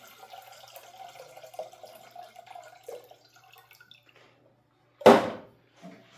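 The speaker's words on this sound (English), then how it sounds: "even before plugging the machine in, we want to fill some water on the water reservoir." Water poured into the reservoir of an Elektra Microcasa Semiautomatica espresso machine, with quiet trickling followed by one sudden loud splash, then a faint drip.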